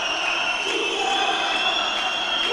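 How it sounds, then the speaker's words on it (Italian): Futsal supporters at a Coppa Italia Sardegna final between San Sebastiano Ussana and Quartu C5, one side whistling in disapproval while the other cheers, forming a steady, dense crowd roar with shrill whistle tones throughout. "con i fischi da parte del tifo del Quartu e l'incitamento di quello dell'Ussana"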